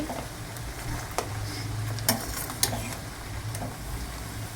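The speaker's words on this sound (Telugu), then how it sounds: "చక్కగా గోల్డెన్ కలర్ వచ్చే వరకు వేయించుకోవాలి." Potato french fries sizzle steadily in hot oil in a kadai over a medium flame, a continuous bubbling hiss with a few sharper pops and crackles.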